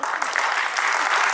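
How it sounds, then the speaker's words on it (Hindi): A theatre audience applauds the performers of a stage play, a dense, steady wash of clapping hands throughout, fairly close and loud. "जोरदार तालियां होनी चाहिए।"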